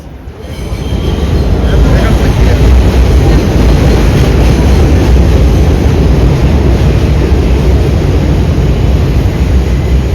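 Vintage R9 subway train arriving at a platform during a parade of trains, a loud close roar of wheels and rumbling carriages building within the first second and staying steady and dense throughout, with faint voices in the noise.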